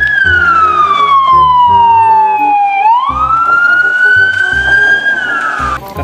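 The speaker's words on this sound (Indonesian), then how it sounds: "Mobil polisi." A toy police car gives off a loud electronic wailing siren. One continuous tone sweeps slowly down, then jumps and rises again, sitting up close and dominant over a rumbling background.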